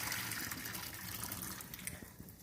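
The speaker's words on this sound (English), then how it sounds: "So we're going to strain the potatoes." Water from a pot of boiled potatoes gushes steadily into a strainer, a continuous loud splashing pour that lasts the whole moment without pause.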